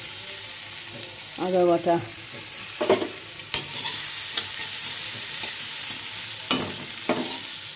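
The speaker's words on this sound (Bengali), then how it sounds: "কালো জিরে সম্বাদ, শুকনো লঙ্কা সম্বাদ, তেজপাতা সম্বাদ দিয়ে বেগুনটা একটুখানি আগে ভেজে নেবো" Eggplant frying in hot oil with black cumin, dried chili and bay leaf, a loud steady sizzle broken by stirring clatters, with brief speech early on.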